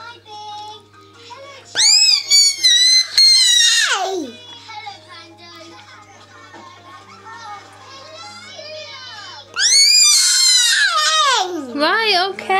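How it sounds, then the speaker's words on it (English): A child screams in high, piercing bursts, first a cluster of shrieks, then a lull of softer fussing, then another loud shrieking outburst, all close and loud. "you don't have to scream"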